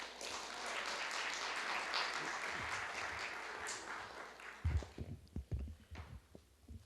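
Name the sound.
audience applause at book presentation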